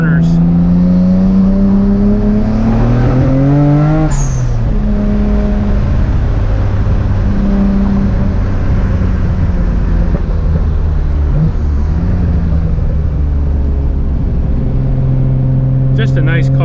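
Engine of a Nissan R33 GTR on the road, a loud droning hum that rises in pitch, drops at a gear change, then holds at steady cruising revs.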